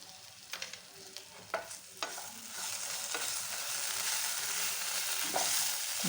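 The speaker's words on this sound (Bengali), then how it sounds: "এটা ভালো করে নেড়ে নিতে হবে।" A spoon scrapes and stirs green banana peel paste in a hot pan, a few sharp scrapes up front, then a steady close sizzle with occasional stirs.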